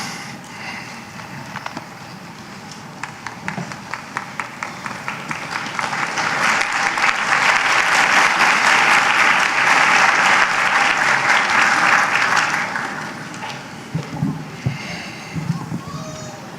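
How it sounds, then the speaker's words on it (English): At a college commencement ceremony, rhythmic clapping builds into a loud, sustained roar of audience applause and cheering that fades after several seconds, with voices and scattered claps continuing underneath. "we welcome you celebrating your graduate with cheers and applause"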